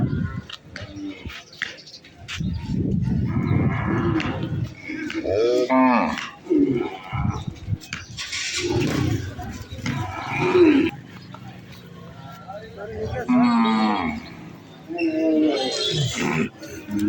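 Cows calling at a busy rural cattle market ahead of Eid, a few drawn-out moos standing out between stretches of close human chatter and crowd noise.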